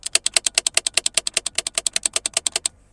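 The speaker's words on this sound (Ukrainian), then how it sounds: "послухайте, з яким звуком він перемикає цей ручник, як вона клацає" A car's electronic parking brake, on an Opel, engages with a rapid run of about twenty-five sharp mechanical clicks in even rhythm, loud and close, stopping abruptly after a few seconds.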